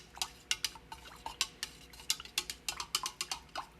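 A utensil stirs aquarium water after a Flux capsule is added, with a rapid run of light clinks and taps against the container. The taps are quiet, close and irregular.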